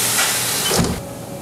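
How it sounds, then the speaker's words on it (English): A HAAS mill's coolant system switches on with a loud, steady rushing hiss of spraying fluid, a brief deeper surge near the middle, then a slightly softer continuing flow, close by and without talk. "If you hit that, your coolant will turn on."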